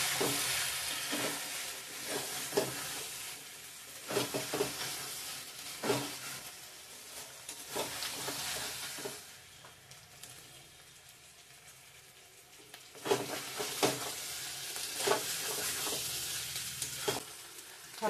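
Chicken curry sautéing in oil for a festive Bengali lunch: a steady sizzle and frying hiss with repeated stirring scrapes, busy at first, easing to a quieter simmer midway, then picking up again.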